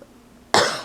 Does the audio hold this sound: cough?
yes